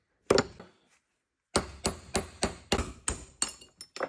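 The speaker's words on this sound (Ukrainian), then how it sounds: "ставимо на тіски і будемо вибивати зовнішню обойму підшипника" Outer race of an Audi 100 C4 wheel bearing hammered out in a vise: one sharp metallic strike, a pause, then a run of seven or eight loud, evenly spaced ringing blows close by.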